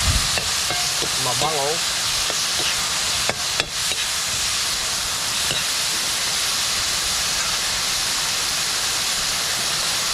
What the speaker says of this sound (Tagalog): Yan po ay ginisang kabuti na may pako.